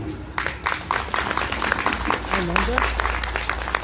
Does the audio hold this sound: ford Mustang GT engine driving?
no